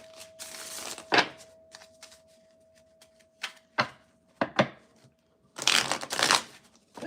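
Tarot cards being shuffled by hand in several separate bursts of riffling and flapping, close and fairly quiet, with short pauses between shuffles and a faint steady hum underneath.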